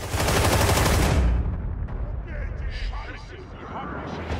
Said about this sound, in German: Ich schieß einfach nur, egal.